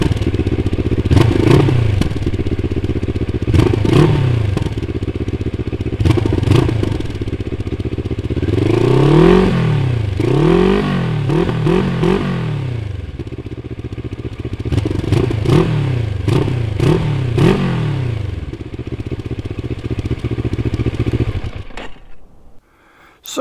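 A Moto Morini Seiemmezzo STR 650 (2023) 650cc two-cylinder motorcycle engine revs repeatedly in loud, rising and falling bursts, close by, with some clatter, then cuts off near the end.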